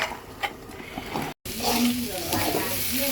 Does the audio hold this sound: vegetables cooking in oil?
yes